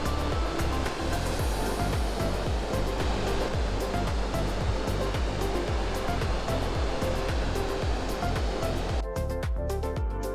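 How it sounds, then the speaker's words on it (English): Gullfoss waterfall in Iceland gives a constant broadband roar of falling water, loud and unbroken, with faint rhythmic thumps underneath and no talk. "Now this is Gullfoss, which is a waterfall here in Iceland"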